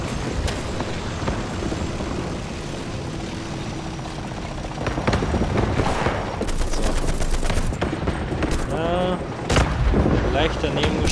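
Tank gunfire in the War Thunder game, including a Leopard tank: sharp cannon cracks and bursts of rapid firing over a constant engine drone, growing denser and louder toward the end.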